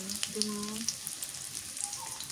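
Chopped onion frying in a generous amount of hot oil gives a steady, close sizzle that crackles throughout, with a faint voice murmuring briefly over it.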